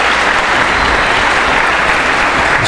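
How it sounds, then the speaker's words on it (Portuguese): Loud, dense audience applause at a theological conference, a continuous wash of close clapping that holds steady throughout. "Espero que todas essas palmas sejam elas dirigidas ao Senhor Deus"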